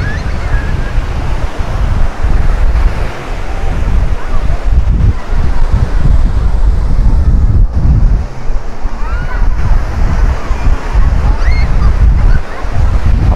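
Sea waves roll onto the beach at Praia Formosa in Cabedelo, Paraíba, a loud continuous surf rush with wind buffeting the microphone.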